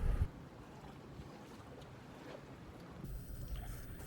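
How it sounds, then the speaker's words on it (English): A sailboat rides at anchor as a cold front passes, with a low, steady rush of wind and water around the hull, a gustier swell near the end and a brief knock at the start. "the wind is howling"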